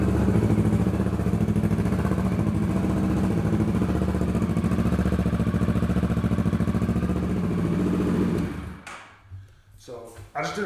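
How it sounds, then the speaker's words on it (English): A Kawasaki Versys 650 motorcycle engine idling after a cold start, a loud steady rhythmic chug up close for about eight seconds before cutting off, followed by a few faint clatters. "I'll go ahead and get a cold start for you."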